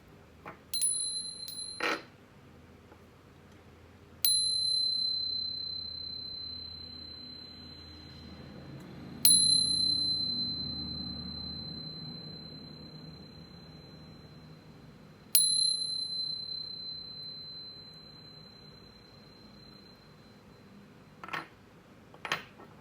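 A bright metallic chime is struck four times at spaced intervals, each ring sustaining a clear high tone that slowly decays before the next strike, with a few soft clicks in between and no speech.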